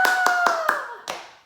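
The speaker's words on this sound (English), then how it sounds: "we're going to cheer and we're going to applaud" A few sharp, close hand claps, about five in a quick uneven burst, during a vacation Bible school lesson with children, over a faint sustained tone.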